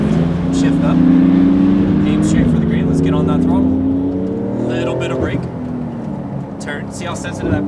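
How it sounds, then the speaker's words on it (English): Porsche GT2 RS engine revving hard under acceleration on a race track, a loud rising roar with gear changes, continuous and close, with someone talking over it throughout. "Let's get on that throttle."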